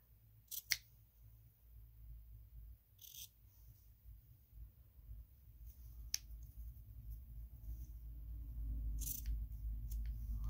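Scissors cut straight across a piece of card in a quiet room, giving a few separate crisp snips spaced several seconds apart over a low hum.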